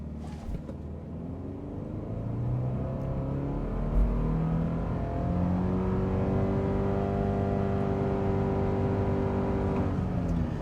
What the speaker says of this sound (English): We'll basically brake torque it.